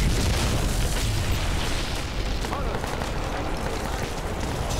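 Heavy gunfire and rumbling explosions in the video game Crysis 2, a dense, loud barrage of booms and shots filling the whole span without letup.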